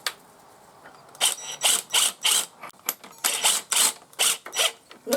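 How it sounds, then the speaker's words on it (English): Ratcheting clicks from a jack being raised to lift a 2020 Yamaha MT-03 or R3 during lowering-kit installation, loud close bursts repeating in a steady rhythm of pumps with no talking. "putting the jack up a little bit at a time"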